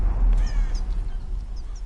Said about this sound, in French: voilà un petit pinson, j'en ai pas tué encore de ceux-là